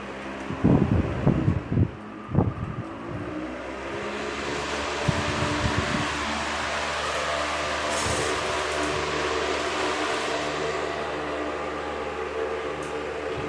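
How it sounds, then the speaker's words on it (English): A 2001 Hampton Bay 20-inch high velocity floor fan on high speed whirs steadily with a dense airy rush and low hum, after a few brief handling clunks at the start. "This sound is very nostalgic, since I pretty much hear it with these fans."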